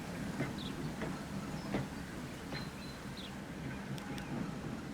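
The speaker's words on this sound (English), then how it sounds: "Good old little steam lorry trains." A small steam lorry train in the Transport Fever 2 video game gives a steady low rumble with faint chuffs and a few brief high tones, fairly quiet and continuous.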